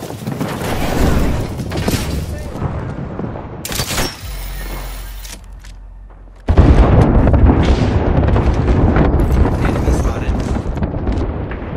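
Artillery strike explosions in the Apex Legends video game arrive as heavy, loud, rumbling blasts, one crash midway followed by a sustained roar of impacts, with radio-style voices heard over the battle noise.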